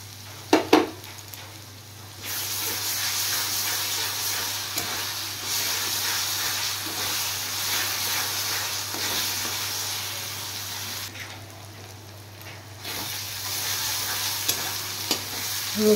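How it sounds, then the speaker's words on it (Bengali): Garlic paste and onions fry in hot oil in a home kitchen, a loud, continuous sizzling hiss that briefly dips and swells, with a low steady hum beneath and a couple of utensil knocks early on. "রসুনটা দেওয়ার পর আর একটু ফ্রাই করে নিয়েছি"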